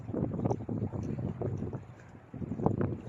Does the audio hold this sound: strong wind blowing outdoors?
yes